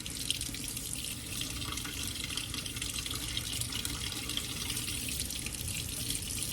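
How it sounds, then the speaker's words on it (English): Kitchen tap running lukewarm water into a container, a steady, continuous close stream with no talk over it. "So we'll put new lukewarm water in here."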